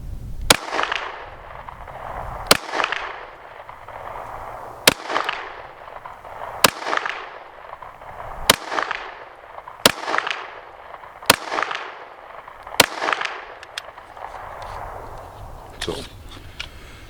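A full-size Walther PDP .45 pistol with a 4.5-inch barrel fires about eight sharp, loud shots spaced roughly two seconds apart, each crack trailing off into a brief echo.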